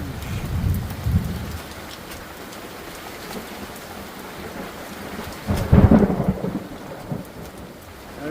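A monsoon thunderstorm with steady rain and rumbling thunder, one loud crack rolling through midway and fainter rumbles earlier, no talk.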